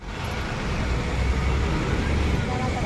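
A travel bus moves off in road traffic, a steady engine and road rumble rising slightly as it gets going, with other traffic noise around it.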